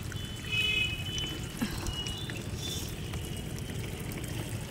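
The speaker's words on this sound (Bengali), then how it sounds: "একটু করে জল দিয়ে যাই।" Water poured onto potted garden plants on a fourth-floor rooftop, a soft, fairly steady trickle and splash heard faintly over outdoor background noise.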